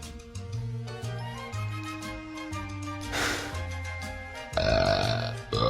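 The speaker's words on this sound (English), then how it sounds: "Oh, smelly burp." A long, drawn-out burp rumbles low and loud with a wet, gurgly texture, alone with no talking.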